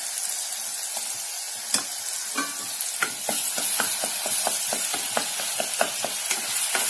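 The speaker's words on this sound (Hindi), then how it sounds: "ये मसाला डाल देते हैं। इसको 2 मिनट भून लेंगे" Masala being fried in a pan for stuffed brinjal, a steady sizzle under a run of sharp, evenly spaced spoon scrapes and taps against the pan, close and loud, with no speech.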